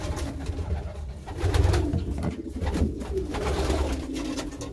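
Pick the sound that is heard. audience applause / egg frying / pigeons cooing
pigeons cooing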